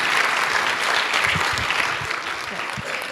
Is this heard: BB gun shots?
no